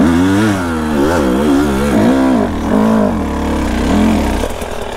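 A dirt bike revs hard while roosting, spraying dirt off its rear wheel during hard enduro riding. The close, loud engine rises and falls in a series of throttle surges, with a rough, gritty edge toward the end.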